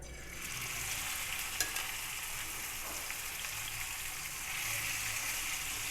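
Minced beef keema sizzles in about five spoons of oil or ghee on a tawa, a steady close crackling hiss with stirring scrapes throughout and a louder surge near the end.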